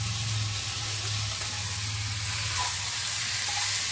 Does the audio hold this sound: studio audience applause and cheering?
no